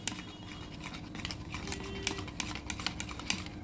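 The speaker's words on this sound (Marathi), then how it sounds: "ते दही आपल्याला फेटायचं आहे छान व्यवस्थित" Curd being whisked in a bowl, a steady run of close, quick clicking and tapping strokes that sharpen into louder hits toward the end, with no voices.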